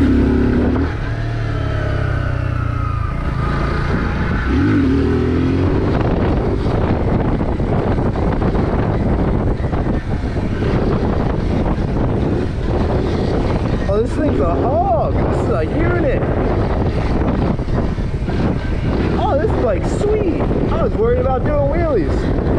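A 2021 Kawasaki Z125 motorcycle being ridden, its small engine revving up and down under heavy wind buffeting on the microphone, with a rider talking at times.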